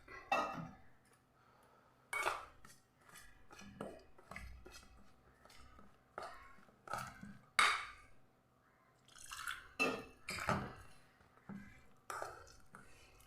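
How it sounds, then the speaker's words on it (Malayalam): Water poured into a bowl of meat masala and stirred into a thick batter, heard as several separate clinks and scrapes of a spoon against the bowl with soft liquid sounds between them, close and moderately loud, with no voices. "ഒരല്പം വെള്ളം ഒഴിച്ച് നമുക്കിതൊന്ന് കലക്കിയെടുക്കാം."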